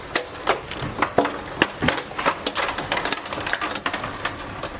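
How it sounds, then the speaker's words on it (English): Heavy hail in a storm in Nashville, Tennessee, rattles down as irregular sharp cracks and clatters, close and loud, with no talking. "That's some real serious hail."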